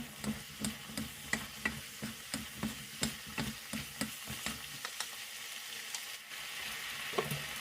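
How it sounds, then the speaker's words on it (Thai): Blanched instant noodles are tossed in a hot pan with a spicy sauce, giving a faint, steady sizzle broken by a regular rhythm of scraping spatula strokes, heard close up with no talking. "จะใส่เส้น ที่ลวกไว้นะคะ ลงไป คลุกเคล้าให้เข้ากันค่ะ"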